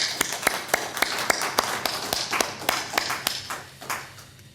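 A church congregation applauds the choir with sparse, distinct claps rather than a dense roar, ringing in a reverberant hall and thinning out toward the end.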